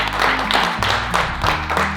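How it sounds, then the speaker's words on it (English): Audience applause at a Yellowstone National Park gathering, steady clapping that swells in waves with bursts of cheering, close and full over a low musical hum. "one more massive round of applause for our dear Maggie"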